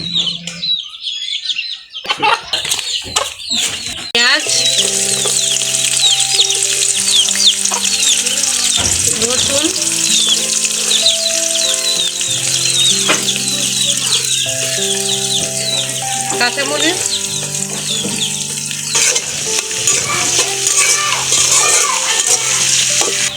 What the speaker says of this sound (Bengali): আমার পেঁয়াজ কাঁচামরিচ রসুনগুলো সুন্দরভাবে ভাজা হয়ে গেছে